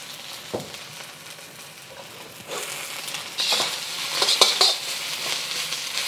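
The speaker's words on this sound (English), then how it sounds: "You just want to cook this until the mushrooms are kind of cooked through and the sausages are heated through." Mushrooms and sausages frying in a pan with shrimp, a steady soft sizzle with a few clinks and scrapes of a utensil against the pan, growing busier and louder toward the end, with no talking.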